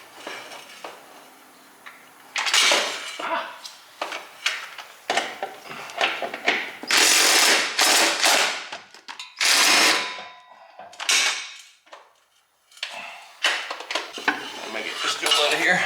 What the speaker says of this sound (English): we're going to use this long extension to go across the top and get our starter bolts right across through here